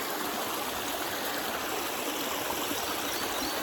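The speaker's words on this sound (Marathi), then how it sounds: "इकडं बघा नदीला पाणी कसं आहे." A river flows steadily near a village well, a continuous close rush of water that stays even and unbroken with no voices.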